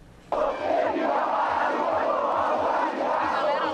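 Atlético Mineiro football supporters gathered in a Belo Horizonte crowd, erupting suddenly into loud, sustained collective shouting and rhythmic chanting that stays dense and close throughout.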